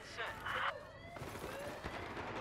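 Gunfire in Battlefield 4 multiplayer on PS4, a few short distant bursts of shots within a brief, busy stretch of game noise.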